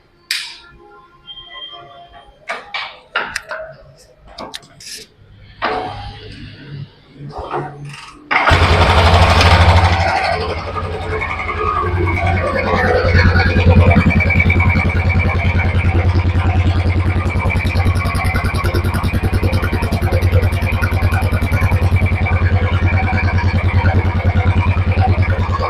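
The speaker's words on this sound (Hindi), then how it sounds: "तो अब हम इस बाइक को किक स्टार्ट करते हैं।" Several sharp mechanical clunks and thuds as a Royal Enfield Bullet 350 is kick-started, then the motorcycle engine fires up and keeps running with a loud, steady rumble to the end.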